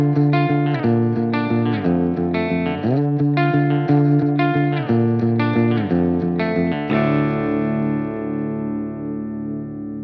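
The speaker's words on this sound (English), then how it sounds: "so let's first hear the clean channel." Clean electric guitar through an amp's clean channel, plucked chords and single notes ringing in a steady rhythm, close and clear, ending on a sustained chord that fades out.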